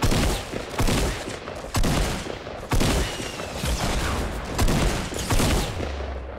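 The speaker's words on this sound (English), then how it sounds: "Ooh, and more clinger nades." Clinger grenade explosions in a Fortnite match, a series of about five loud, sharp blasts at irregular intervals over steady background game noise.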